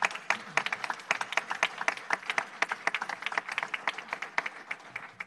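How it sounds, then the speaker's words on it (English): Applause for the organiser of a Halloween parade at a city council meeting, a steady patter of many hands clapping at moderate level, with no talk over it. "if everybody would give applause to our good friend Tiffany Thorndike and her team"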